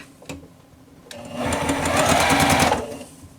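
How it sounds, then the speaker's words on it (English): A sewing machine stitches fabric blocks together in quick succession, its steady mechanical whir starting abruptly, running close and fairly loud for about a second and a half, then stopping, with no voices over it. "I'm just going to continue sewing."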